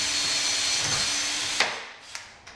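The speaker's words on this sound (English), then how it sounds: "I drill and loosen the drill again." A steady electric drill whirs into wood for about a second and a half, then winds down, followed by a few sharp clicks and taps.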